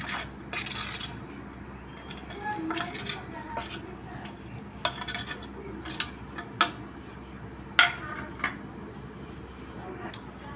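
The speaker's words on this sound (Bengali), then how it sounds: "কাটা আর বাটা মশলাগুলো দিয়ে মিক্সড করে আপনাদের দেখাচ্ছি।" Spoon scraping and light metallic clinks sound as cut and ground spices are mixed into vegetable stalks in a pan, fairly quiet, irregular taps and scrapes with a few sharper knocks, no speech.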